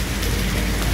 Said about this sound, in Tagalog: Maulan dito, maulan.